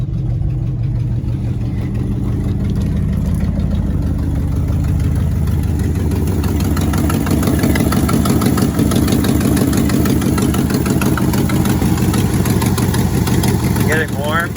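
A 1967 Ford F100 engine runs and warms up, a loud, steady idle with a low throbbing rumble filling the whole stretch.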